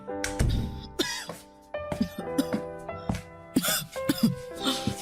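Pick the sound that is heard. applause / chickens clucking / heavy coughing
heavy coughing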